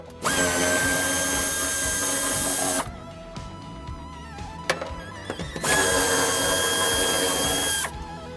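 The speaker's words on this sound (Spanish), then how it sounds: "Para poder terminar de sacar el tapizado tendremos que quitar estos dos tornillos de 10." A power tool spins out two 10 mm screws from interior trim on a 2015-on Suzuki Vitara: two loud, close whirring bursts of a few seconds each, separated by clicks and handling noises, with no talking.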